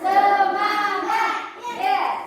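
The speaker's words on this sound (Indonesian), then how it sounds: "kita tepuk semangat dulu" A classroom of children chants a rhythmic 'tepuk semangat' cheer in unison, voices loud and close in two bursts, with hand claps hardly standing out.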